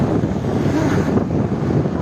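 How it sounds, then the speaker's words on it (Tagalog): Strong wind in Bulacan, Philippines buffets the microphone in a constant low rumble and roar, steady and loud for a couple of seconds, with no voices. "Lakas pa ng hangin."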